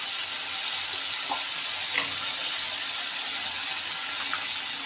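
Chicken coated with Kashmiri chilli powder fries in a pan with a constant, even sizzle, loud and close, broken by a few faint clinks and no voices.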